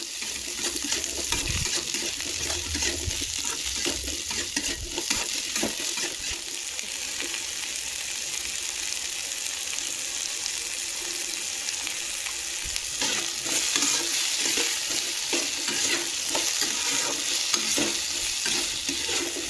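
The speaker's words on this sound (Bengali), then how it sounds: "এবার দিয়ে দেবো তার মধ্যে ঝিঙেগুলো। তারপর এটাও একটু নাড়তে থাকবো।" Ridge gourd and potatoes fry in oil for a ridge gourd poppy-seed dish, a steady broadband sizzle with repeated scraping stir strokes running throughout, close and moderately loud with no talking.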